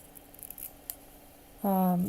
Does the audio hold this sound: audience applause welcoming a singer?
no